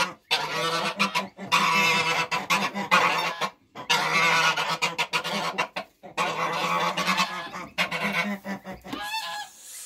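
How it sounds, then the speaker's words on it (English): A lost baby gosling on a farm peeps in loud, close, repeated runs of shrill calls separated by brief pauses. "So I found this baby gosling wandering around"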